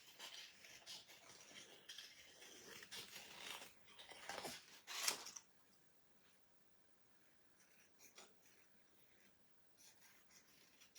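Scissors fussy-cut a stamped paper sentiment made with a Stampin' Up! Begonia Belle stamp set, giving faint crisp snips and rustling paper over the first five seconds before the sound drops to near quiet.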